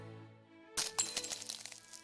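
A glass-like crack and shatter effect from a Square Enix monster-collecting gacha game's summon animation bursts in suddenly after a soft sustained musical tone, followed by a cascade of tinkling fragment sounds that fades out over a second.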